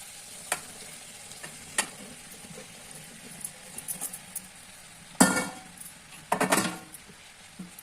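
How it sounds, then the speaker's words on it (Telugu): Okra is stirred in a pan with tomatoes, a quiet steady sizzle broken by sharp scrapes and clinks of a spoon against the pan, with louder bursts of stirring near the end. "ఇప్పుడైతే బెండకాయలు వేసేస్తున్నాం చూడండి బెండకాయలు వేస్తున్నాను"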